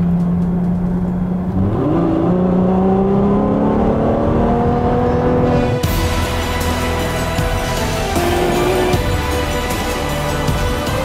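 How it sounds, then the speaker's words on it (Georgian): A Ferrari F12 Berlinetta's 740-horsepower engine revs up loudly and close, its pitch climbing steadily, then drops back and keeps a strong, rising roar. "ეს არის Ferrari, ეს არის ჩემი ბავშვობის ოცნების ავტომობილი"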